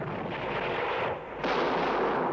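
Cannon fire and bombardment roar as a dense, loud, booming rumble, dipping briefly before a second heavy blast swells back up.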